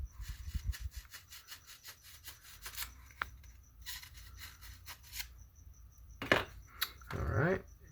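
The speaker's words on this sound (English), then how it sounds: "I have a 1/8 inch drill bit here, and I just try to find about the center" A hand drill with a 1/8 inch bit bores a hole into the center of a rocket header, giving short bursts of rough, rhythmic rubbing and grinding, close and fairly quiet, with pauses between strokes.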